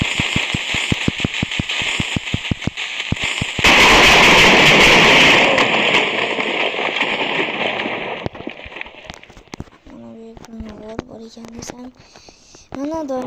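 Firecrackers go off in a rapid crackling string of sharp bangs, then a dense burst of loud blasts, thinning out into scattered pops while a voice speaks near the end.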